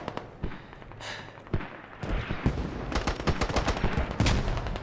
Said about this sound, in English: Mortars going non-stop throughout the match.